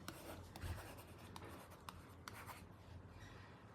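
Stylus pencil tool writing on a reMarkable Paper Pro tablet screen, producing soft continuous scratchy strokes with a few sharper taps, close and quiet, with no voices.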